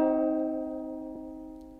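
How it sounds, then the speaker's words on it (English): A single strum on an out-of-tune four-string ukulele rings out alone, its chord sustaining and slowly fading, with a faint touch partway through. "that makes your ukulele go out of tune"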